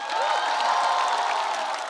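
A stand-up comedy audience cheering and applauding, a dense, bright wash of clapping, whoops and crowd noise sustained and fairly loud.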